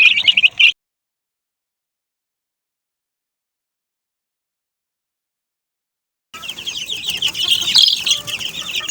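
Chickens clucking and squawking over their feed in short bursts, a brief burst at the start, then silence, then a busy stretch of clucking near the end.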